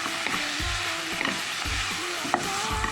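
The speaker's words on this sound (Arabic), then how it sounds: "نشوح بقى اللحمه بالشكل ده، تبقى تنزل الدهون اللي فيها" Minced meat and wilted onion sauté in oil in a pan for kebab stew, giving a steady close sizzle broken by several scraping stirs and a sharp utensil knock near the end.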